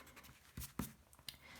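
Pen strokes scratch across paper in short, faint bursts, a few quick marks separated by pauses, with no talking.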